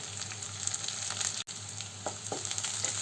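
Onion, garlic and curry leaves frying in hot oil for a Kerala-style black chickpea stir-fry, a continuous close sizzle with a few soft stirring knocks, no talk.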